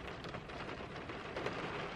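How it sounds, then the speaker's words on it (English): Steady rain falls on a cold winter evening outdoors, a dense, even hiss of drops hitting surfaces at close range with no voices, holding constant for about two seconds. "this rain doesn't look as if it's stopping anytime soon"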